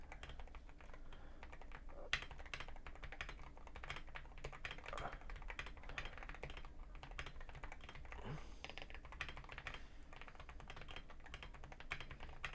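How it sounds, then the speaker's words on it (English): Someone types steadily on a Wooting 80HE gaming keyboard for a typing test, producing a dense, continuous patter of close key clicks and taps with no speech. "Alright, so I'm going to do a typing test real quick."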